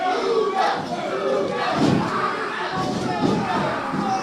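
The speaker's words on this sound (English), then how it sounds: "Crowd again behind Ouga Booga" A crowd at a P.P.W. professional wrestling match in Pelham roars and chants in rising waves behind a wrestler, loud and close, with shouting voices mixed in throughout.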